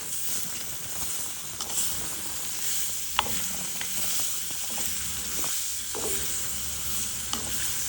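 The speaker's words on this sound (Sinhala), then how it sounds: "ලොකු ලූණු ටික මේ විදිහට එකතු කරලා අපි හොඳට මේක කවලම් කරගන්න ඕන" Red onions tossed into a hot frying pan and stirred, a continuous close sizzle broken by scraping strokes and clicks of the spoon against the pan, with no voices.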